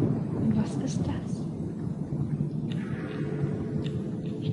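Rolling thunder from a lightning storm in the video game Among the Sleep, a low continuous rumble filling the whole stretch with a few brighter crackles, with a voice talking over it.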